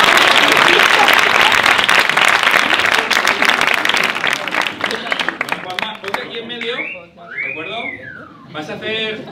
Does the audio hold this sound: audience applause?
yes